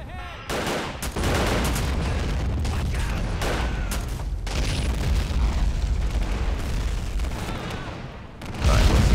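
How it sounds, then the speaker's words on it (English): Heavy explosions and gunfire as a house is blasted apart in an Iraq War 2003 game mod, loud booming blasts and crackling fire rolling continuously, with a fresh burst near the end. "There, blast that entire house apart."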